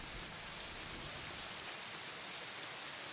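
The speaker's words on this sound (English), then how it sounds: "There will be, you just hear the sound of rain" Steady rain falling continuously, a dense even hiss that fills the whole moment with no other sounds standing out.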